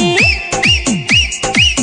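Whistling within a Sindhi-Hindi pop song, four repeated phrases each sliding upward in pitch, bright and loud over a bouncing beat that drops low after each whistle.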